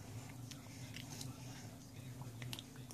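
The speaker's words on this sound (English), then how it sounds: "Gotta chew it good." A baby chews a first piece of apple, with soft, close, intermittent bites and crunches over a quiet room hum, and faint speech murmurs in the background.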